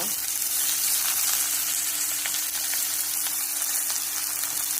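Mustard seeds, cumin and onion fry in hot oil, making a loud, dense, continuous sizzle with fine crackles close by, steady throughout.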